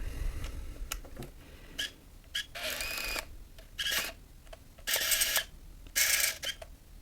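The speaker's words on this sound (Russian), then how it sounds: "Далее включаем камеру." Nikon F801 35mm film camera powering on and winding film, a series of short mechanical whirs and clicks in bursts, with brief motor drive sounds standing out, recorded close with no talking.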